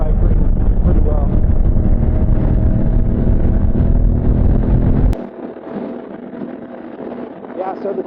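A 2024 Honda Africa Twin motorcycle at highway speed, a loud roar of wind buffeting and engine and road noise for about five seconds, then suddenly quieter, leaving a softer rumble with wind.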